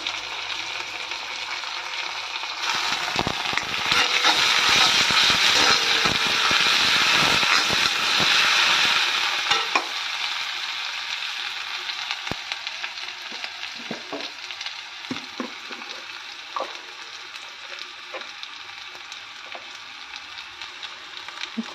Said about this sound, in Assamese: তাৰপিছত নহৰুখিনি ইয়াতে মই দি দিম এতিয়া।